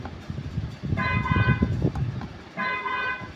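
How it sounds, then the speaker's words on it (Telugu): Two electronic horn toots from a children's battery ride-on toy car, each a steady buzzy tone lasting under a second, separated by a pause, over low background rumble. "దీనికి హార్న్ కూడా ఇవ్వడం జరిగింది"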